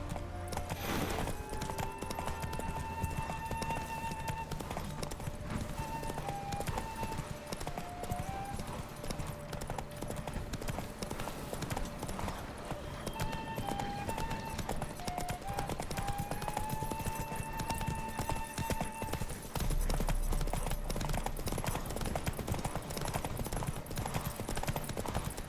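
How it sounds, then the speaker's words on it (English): Steady clip-clop of galloping hooves during a horse race in The Witcher 3, with a looping musical background and occasional distant gunfire. "The horse racing in this game isn't particularly difficult"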